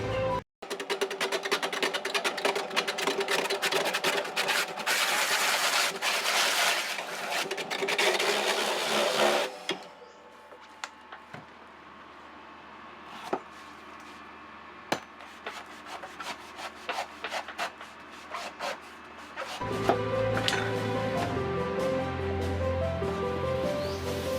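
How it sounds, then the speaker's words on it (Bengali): Coconut husk removing machine on a coconut farm, a harsh rubbing, grinding rasp that runs loud, drops to quieter intermittent scraping, then resumes with a heavier motor drone. "এই নারকেলের খোলা ছাড়ানো মেশিন তাদের অনেকটা লেবার কস্ট কমিয়ে দেয়"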